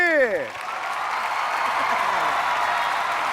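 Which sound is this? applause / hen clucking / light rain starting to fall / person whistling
applause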